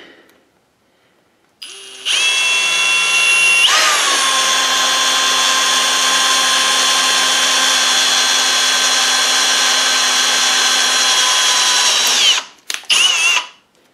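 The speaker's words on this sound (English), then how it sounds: "Get yourself an eighth inch drill bit very carefully" A power drill with an eighth-inch bit whirs at high speed for about ten seconds, pitch dipping briefly as it bites, then stops, followed by a couple of short bursts.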